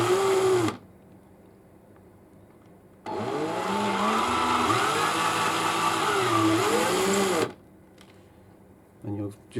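A hand drill whirs in steady bursts while it uniforms the primer pocket of a new, unfired Lapua .223 brass case, running for several seconds with pauses in between. A person talks during the quiet gaps.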